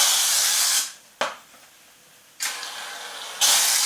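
Can of shaving foam sprayed into a tray in several loud hissing bursts separated by short pauses, with a sharp click from the nozzle in between, close by.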